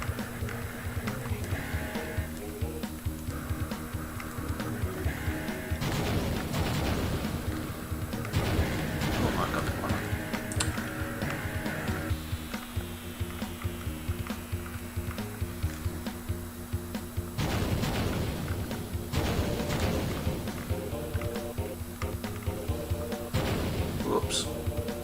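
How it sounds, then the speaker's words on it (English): Chained missile explosions from Missile Command 3D on the Atari Jaguar burst out as repeated loud booms over a busy bed of electronic game tones and music, with someone talking over the action. "if you get your explosions right, the explosions, you know, chained together"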